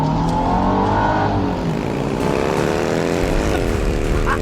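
A car is driven with its engine droning steadily and loud nearby, the pitch rising and falling as it accelerates, with no speech.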